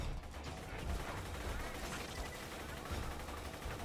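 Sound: Shredifier assault rifle firing in the video game Borderlands 2

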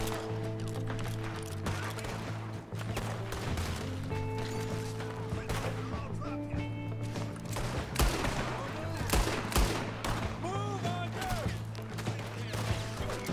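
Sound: gunfire in a shootout in the video game Red Dead Redemption 2

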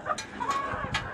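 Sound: pair of domestic ducks

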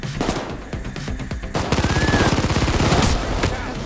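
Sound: gunfire shooting at police in video game Payday 2

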